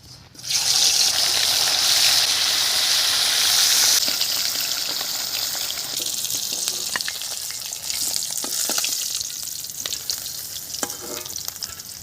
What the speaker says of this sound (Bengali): কড়া গরম হয়ে গেছে, এবার আমি তেল দিয়ে দিচ্ছি